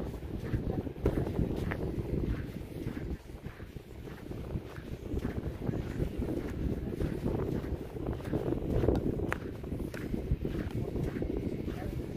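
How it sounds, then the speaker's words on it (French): Blustery coastal wind at Le Touquet rumbles against the microphone throughout, a constant low roar beneath nearby voices chatting. "attention, il y a du vent"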